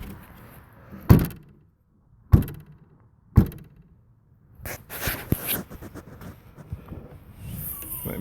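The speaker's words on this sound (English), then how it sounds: "And then I take it, I'll close the door." Rear door of a Ford Expedition being shut during a rear wiper repair, three sharp separate thumps about a second apart, followed by softer rattling and handling noises, close by with no talk.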